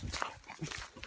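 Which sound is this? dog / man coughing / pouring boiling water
dog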